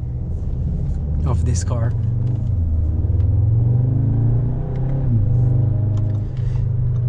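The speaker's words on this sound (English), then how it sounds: "the sound of the engine when you're inside the car, and also from the exhaust pipe" Engine and exhaust of a 2021 Audi S3 sedan heard from the cabin, a low, steady rumble that swells and revs while someone talks over it.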